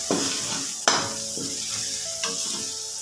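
Bhujia mixture sizzles as it roasts in a pan, with steady close frying hiss broken by several sharp scrapes and clinks of a spoon stirring against the metal, and no voices.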